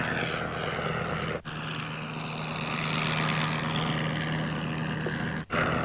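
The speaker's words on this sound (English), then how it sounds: "airborne within a couple of days on his first instructional flight in an Avro 504" Steady drone of an Avro 504 biplane's engine and propeller in flight, a continuous loud hum filling the clip with a low tonal line, briefly dipping twice.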